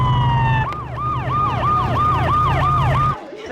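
A police car siren on a film set, loud and close, a steady tone that switches into a fast rising-and-falling yelp repeating about twice a second, with engine rumble underneath before cutting off abruptly.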